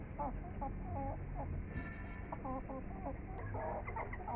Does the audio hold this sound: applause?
no